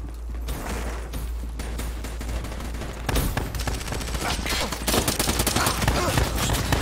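Rapid gunfire from Call of Duty Black Ops 3, with shotgun blasts mixed into dense bursts of shots that build and continue steadily under faint game noise.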